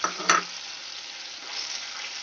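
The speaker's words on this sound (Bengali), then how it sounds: "শুধু এই টমেটো আর কাঁচা লঙ্কার পেস্টটা আমি ভালো করে কষিয়ে নেব।" Tomato and green chili paste frying in a pan: a sharp clink of a utensil at the start, then a steady, moderate sizzle that swells slightly toward the end.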